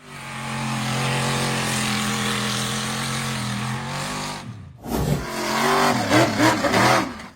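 A high-clearance off-road buggy engine roars steadily, then cuts briefly and revs up again with rising, surging bursts as it accelerates over a mound of earth during hard off-road hill driving; loud and close, with no talk.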